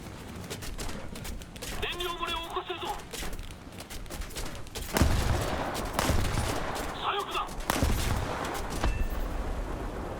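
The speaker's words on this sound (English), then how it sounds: "Torpedoes away!" Torpedo plane attack in an arcade video game, with rapid bursts of gunfire and explosions over a dense game soundtrack, and a voice talking intermittently.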